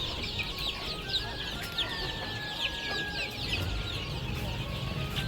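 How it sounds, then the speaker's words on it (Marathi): Free-range chickens and young chicks on a poultry farm cluck and peep continuously at a moderate distance, high chirps scattered over a steady outdoor background. "आज आपले पक्षी मुक्त संचारला सोडलेले आहेत"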